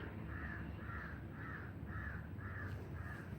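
A crow caws six times in an even, unhurried rhythm, each call a harsh, clear note at moderate distance, over a low steady background murmur.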